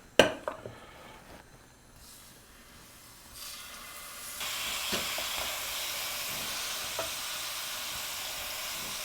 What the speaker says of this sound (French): Une fois votre beurre chaud, on va faire revenir nos morceaux de viande.